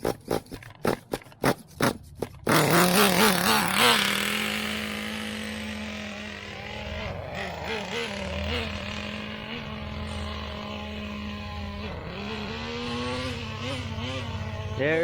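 A TMAXX 2.5 nitro RC truck engine is pulled over with a string of rapid starter pulls, then catches and runs, idling and revving in a buzzy, wavering drone that rises and falls close by.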